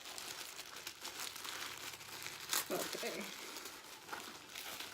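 Crinkly packaging around a Coach Rexy and Carriage bag charm rustles and crackles close up throughout, with one sharper crunch midway, while a person speaks briefly.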